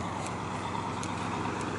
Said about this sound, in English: Sounds like it's got a big motor in it.